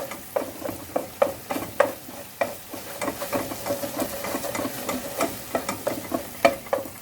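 Soup ingredients fry in hot oil in a pot, a continuous sizzle broken by frequent rhythmic stirring clicks and scrapes of a spoon, close and moderately loud, with no voices.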